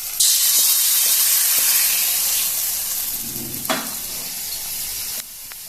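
Hot tempering poured into a mango pulissery curry with the flame off bursts into a loud, close, bright sizzle that hisses steadily, then fades a little, with a brief splutter partway through and a sudden drop near the end.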